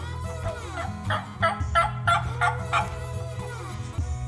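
A voice imitates a wild turkey's yelp: a quick series of about seven sharp, nasal calls in an even rhythm, loud and close, with no talking.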